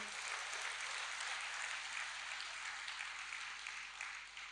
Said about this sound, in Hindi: वंडरफुल, वंडरफुल, जोरदार तालियां अपने लिए।